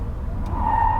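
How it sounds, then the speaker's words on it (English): Front tires of a 2023 Genesis GV60 Performance EV slipping during a hard launch, heard as a rising squeal over the low road rumble in a brief burst. "I believe it's because of the tires slipping over there."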